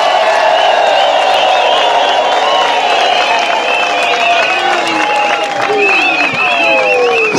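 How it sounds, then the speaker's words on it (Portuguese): Crowd at a political rally in Macia, Mozambique, claps and cheers steadily and loudly, a dense wash of applause with whoops and voices mixed throughout. "Uma salva de palmas."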